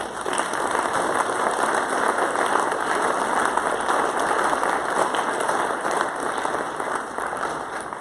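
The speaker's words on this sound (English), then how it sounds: "A round of applause for your new Vice President, Mr. Jim Ferris." Convention audience applauds continuously at an opening ceremony, a dense, even wash of many hands clapping from start to finish with no talk over it.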